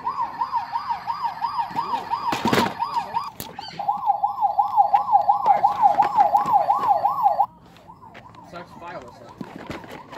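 A Tonka Toughest Minis toy vehicle blares a loud, steady wailing electronic siren in a Target store, broken briefly by a clatter, then continuing more softly near the end.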